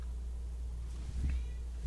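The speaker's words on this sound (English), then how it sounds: "if you hear some annoying cat meowing in the background, Portman is trying to get in the room" A cat meows faintly somewhere in the background indoors, one brief muffled cry over a low steady room hum while it tries to get into the room.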